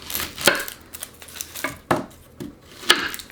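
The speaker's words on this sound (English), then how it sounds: "just chop them up." Onions chopped with a knife on a cutting board in a home kitchen, a handful of sharp, irregular knocks close by with quiet gaps between them.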